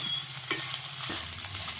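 Egg chilli fry being stirred in a hot pan, with a steady close sizzle of frying and occasional scraping stir strokes, no talking.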